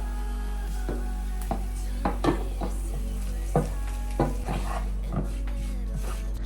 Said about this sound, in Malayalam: ബീട്രൂട്ടും കൂടി നമുക്ക് ഇതിലേക്ക് ഇട്ട് കൊടുക്കാം.